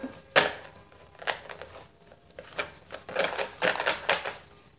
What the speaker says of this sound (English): I did shuffle these cards a lot, and I'm going to continue to shuffle them.